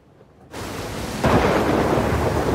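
Steady rain suddenly swells, then a loud crack of thunder bursts in and rolls on over the downpour.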